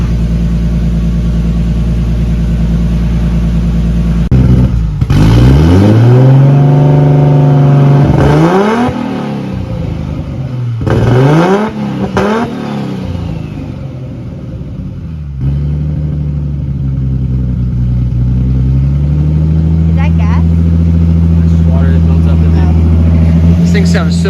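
A big-turbo Nissan Skyline R32 engine idles, then revs up sharply several times in loud, rising and falling bursts before settling back to a steady, rumbling idle.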